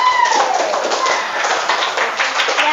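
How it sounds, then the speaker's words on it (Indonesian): A classroom of students claps for a presenting group, a brisk, loud patter of many hands that runs evenly throughout with no talk over it. "Beri aplaus dulu untuk kelompok yang menanggapi kelompok bilangan negatif"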